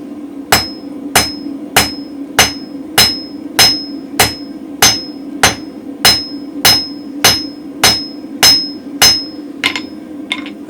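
A hammer rings out in a steady series of about fifteen sharp, evenly spaced blows on mild steel over an anvil, forging a spring fuller, each strike bright and clear against a low hum, with no talk.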